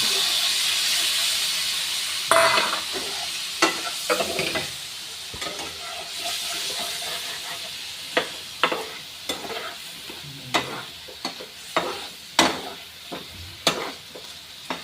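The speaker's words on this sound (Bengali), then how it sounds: "এই যে অল্প একটু জল দিতেছি কষাইবার জন্য" Eggplant sautéing in a hot pan gives off a steady loud sizzle and hiss as a little water goes in, with repeated sharp scraping knocks of stirring that grow more frequent toward the end.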